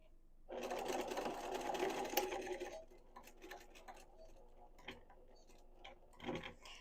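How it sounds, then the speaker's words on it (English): A sewing machine runs in a quick burst while top stitching a fabric crown, then stops, leaving soft fabric handling and small ticks and clicks nearby. "I'm going to continue to top stitch 1/8 of an inch away from the edge all the way around"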